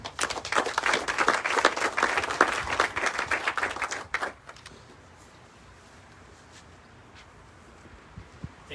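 Audience applause at an outdoor groundbreaking ceremony for La Joya Commons: dense, steady clapping from a crowd for about four seconds, then it stops abruptly, leaving quiet ambience with faint scattered sounds.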